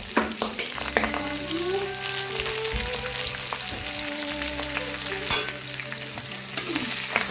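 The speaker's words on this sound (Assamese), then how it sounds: "এতিয়া আমি ইয়াত কাটি ৰখা পিঁয়াজখিনি দি দিম পিঁয়াজ তাৰপিছত আদা নহৰুখিনি দি দিম" Onions, ginger and garlic sizzle steadily in a frying pan for pork, a loud continuous crackle with occasional stirring scrapes and clatter throughout.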